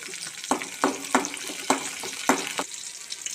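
Green chillies, garlic and ginger hitting hot oil in a pan, with several sharp sizzling bursts and stirring scrapes at irregular intervals over a steady frying hiss, close by, no talking.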